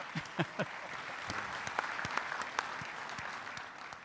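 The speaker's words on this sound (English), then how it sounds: "How about some applause for continued expansion?" Audience applause at an industry forum's petrochemical panel, a steady wash of clapping lasting several seconds, fairly close and moderately loud, with a few sharper individual claps standing out.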